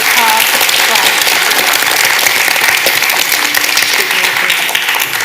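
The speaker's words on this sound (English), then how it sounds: "can you just give a huge applause to these amazing people?" Audience applause after a talk on experiences of accessing treatment within Black and Asian communities, loud and steady dense clapping from a large crowd filling the whole stretch, with faint voices mixed in.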